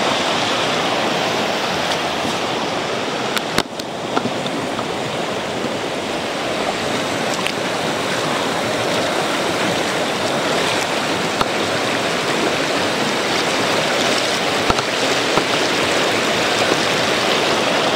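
A swift river rushes in a dense, continuous roar during a crossing in the middle of a forest, loud and steady with no voices.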